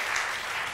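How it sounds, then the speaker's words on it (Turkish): A studio audience at a Turkish daytime TV talk show claps in a brief, dense burst of steady applause. "burada alkışlar ekibime"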